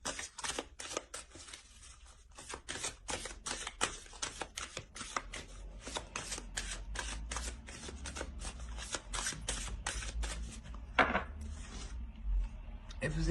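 A deck of oracle cards is shuffled by hand at close range, giving a long run of rapid, papery riffles and slaps with only brief pauses.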